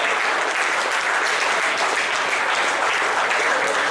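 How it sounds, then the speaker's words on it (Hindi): Dense, steady applause from an audience at a district cricket association's annual felicitation function, loud and sustained throughout with no pauses and no audible talk. "सभी का ताली बजते रहना चाहिए।"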